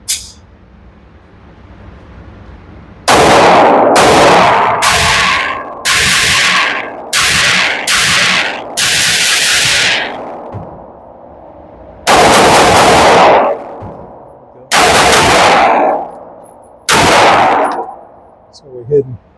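Sig Sauer P320 xFive pistol firing at a target, about ten loud sharp shots in irregular groups, some close together and others spaced seconds apart, each ringing briefly.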